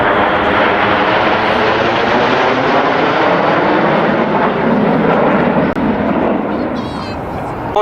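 Red Arrows jet aircraft roar overhead during a flying display at an air show, a broad loud rushing engine noise that holds steady and then eases slightly.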